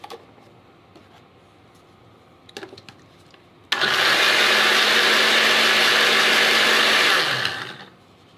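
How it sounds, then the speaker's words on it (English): A blender whirring carbonara sauce starts abruptly and roars loudly and steadily for about four seconds before winding down, preceded by quiet room sounds and a few small clicks. "I'm gonna give it one more quick blend."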